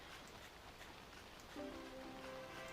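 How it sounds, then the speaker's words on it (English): Steady, soft rain falls in the video game Viva Pinata Pocket Paradise, a faint continuous hiss that runs throughout while a gentle musical tone enters partway through. "And it's raining already, except worms like rain"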